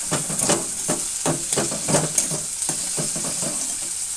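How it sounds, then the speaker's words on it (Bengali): Masala with chopped tomato sautéing in a pan, a steady close sizzle with repeated scraping stirs about every half second, no talking. "এবার একসঙ্গে এই মশলাটা আমি এখন কষতে থাকব।"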